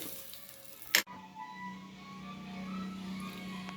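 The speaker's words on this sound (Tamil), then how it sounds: "கருவேப்பிலை போடுறோம். இப்போ தாளிச்சு போட்டுறோம்." Curry leaves drop into hot oil for tempering with one sharp crackling burst, then a quieter steady sizzle carries on alone.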